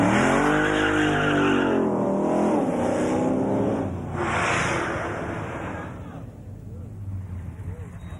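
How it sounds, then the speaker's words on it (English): A car accelerates hard and brakes in a Go-To-Whoa qualifying run at the Summernats car festival, engine roaring loudly then fading with tyre noise and crowd ambience, while an announcer talks over it. "So Debbie, about to take this pretty car, pretty lady in a pretty car, through for a qualifying attempt in the Go to Woe."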